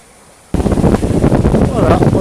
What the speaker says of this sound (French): Allez, il y a du vent.